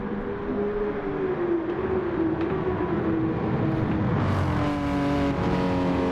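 Porsche race car engine in Gran Turismo 7, a steady loud drone with a sustained high whine that shifts pitch slightly as the car runs, with no talk over it.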